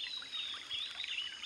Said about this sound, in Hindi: प्योर पानी आ रहा है और मेरा दोस्त लोग सब लोग हाथ मुँह धो रहे हैं